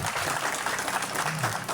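Brief burst of applause from an audience at a general assembly, a dense patter of clapping filling the moment.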